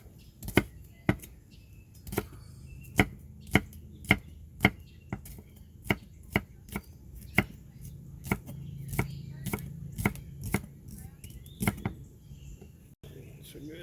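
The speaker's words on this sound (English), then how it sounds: "Cut up the onions now to go with the potatoes." Onions being chopped with a knife on a board at a camping breakfast: a steady run of sharp, close knocks, roughly one every half second, slowing and softening toward the end, with quiet talk in between.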